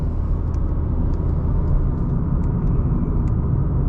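A Honda City holds 100 km/h on cruise control, with a steady low rumble of road and tyre noise inside the cabin, a few faint ticks over it and no talking.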